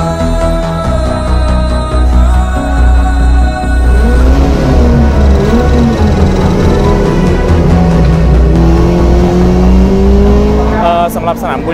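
A 1600cc race car competing at Buriram circuit roars loudly and continuously, its engine pitch rising and falling through gear changes as it accelerates, with speech faintly mixed in beneath the engine noise.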